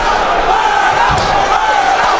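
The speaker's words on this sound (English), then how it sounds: "Crowd chanting Berto's name as he connects with a right hand" A boxing arena crowd at a welterweight fight chants a fighter's name, a dense, loud, sustained roar of voices with a rhythmic swell, close and continuous.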